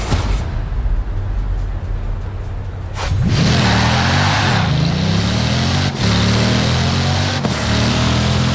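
A car driven in the Forza Horizon 4 racing game, engine droning loudly, then revving up through rising gear pulls, close and continuous.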